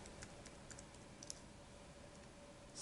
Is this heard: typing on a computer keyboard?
yes